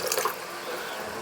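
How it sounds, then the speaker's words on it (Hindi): A thin mixture of milk and water poured into sugar syrup for Bihari-style dahi vada, a steady close splashing pour lasting about a second with no one talking. "अब हम इसमें डालेंगे थोड़ा सा दूध और पानी।"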